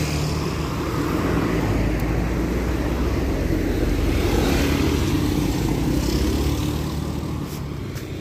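A heavy Harley-Davidson motorcycle engine rumbles loudly and continuously nearby, a deep steady roar with road noise swelling slightly midway.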